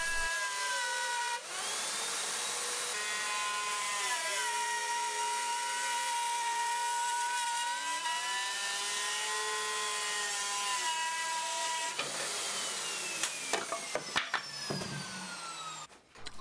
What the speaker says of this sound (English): I plunged about halfway and made a first pass, and then plunged all the way to make the second pass.